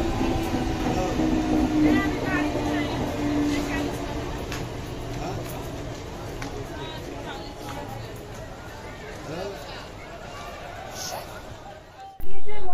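A train rumbles at a railway station, with steady low rolling noise and clanks, and a crowd chatters throughout. A sharp loud burst comes near the end.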